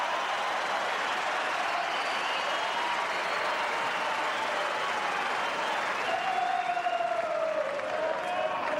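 Sustained applause from a large tennis crowd at the 2005 Australian Open semifinal, dense and steady throughout, with faint murmuring mixed in.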